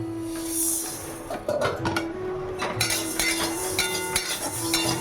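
Whole nigella, fennel, black mustard, radhuni and fenugreek seeds dry-roasting in a white pan: light scraping and clinking of a utensil stirring against the pan under a steady background hum, close and moderately loud.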